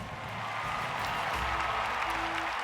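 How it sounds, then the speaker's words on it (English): A crowd applauds in the video game Potionomics: steady, moderate clapping and murmur sustained throughout, with a soft game music tone underneath. "The crowd has assembled!"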